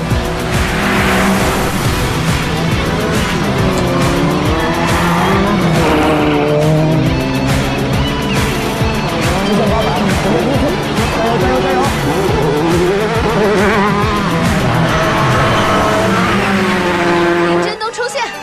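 Race cars driven hard on a track, a loud continuous engine roar with shifting pitch and tyre squeal, close and sustained, with voices talking over it throughout.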